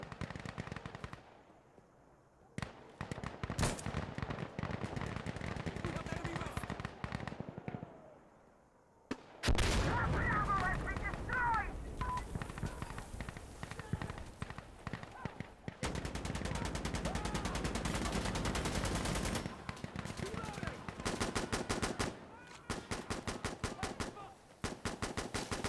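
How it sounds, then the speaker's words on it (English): Video game gunfire with long, rapid machine-gun bursts and single shots, loud and close, repeating throughout with brief pauses between volleys. "Hey, stop shooting!"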